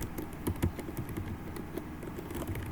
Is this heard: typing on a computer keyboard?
yes